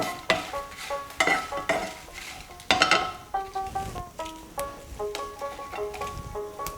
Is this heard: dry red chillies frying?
yes